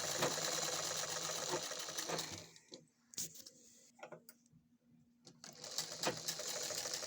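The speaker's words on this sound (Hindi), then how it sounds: "ऐसे सिलाई पूरी करके ये हो गई" A sewing machine stitches a garment neckline in two loud steady runs at the start and end, with a quieter gap of clicks and handling sounds between them.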